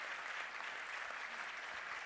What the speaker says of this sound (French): On va les applaudir, s'il vous plaît, très fort.